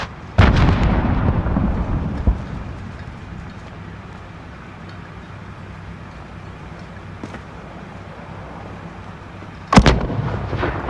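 Distant mortar blasts and scattered gunfire in the Call of Duty: Modern Warfare (2019) campaign, with a heavy boom near the start, a low rumbling battlefield bed, and another sharp loud blast close to the end.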